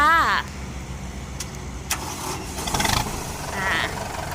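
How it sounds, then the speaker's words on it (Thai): A car engine at a repair shop turns over and settles into a faint, low idle, with a couple of brief louder bursts and voices talking nearby. "เดี๋ยวลองดูที่เครื่องรถนะคะว่า เครื่องจะสตาร์ทติดง่ายแค่ไหนนะคะ"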